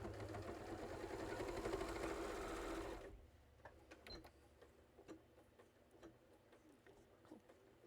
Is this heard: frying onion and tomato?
no